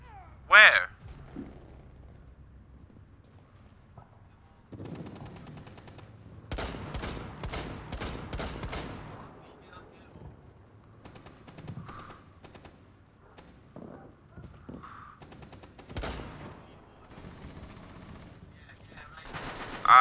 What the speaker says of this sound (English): Shooting in the room, fuck it.